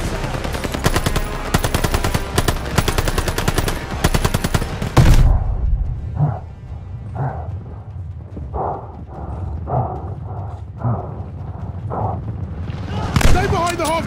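Rapid machine gun bursts from a Call of Duty Vanguard battle rattle loud and dense for about five seconds, then give way to intermittent shouting voices over a low rumble, with another burst near the end.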